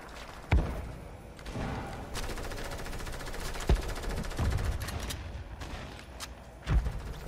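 Gunfire in Fortnite, with rapid rattling bursts and several sharp, loud individual shots and thuds spread irregularly over a continuous background of game noise.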